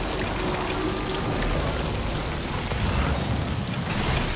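Timefall rain in the video game Death Stranding 2: On The Beach, a steady, close hiss of falling rain pattering on surfaces, with faint mechanical rumbles underneath and no talking.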